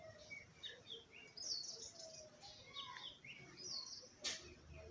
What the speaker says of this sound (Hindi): पक्षी सब उड़ रहा है।